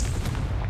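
A Confringo blasting spell in Hogwarts Legacy, a short, loud low-end burst with a fiery crackle, heard alone and close.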